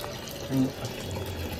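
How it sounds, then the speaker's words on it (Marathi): A short stretch of running water, a quiet steady flow like a tap filling a container, with a brief louder swell partway through. "थोडं पाणी भरणं चालू आहे"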